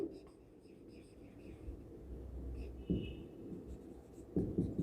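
Chalk or marker scratches and taps on a classroom board in a physics lecture, soft irregular strokes heard fairly faintly at close range.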